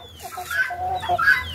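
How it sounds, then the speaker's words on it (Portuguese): Speckled free-range hens cluck and murmur softly close by, with a few rising squawky notes over a low outdoor background rumble, no voices. "A galinha pintadinha."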